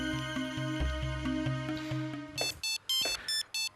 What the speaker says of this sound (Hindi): लोलो का फोन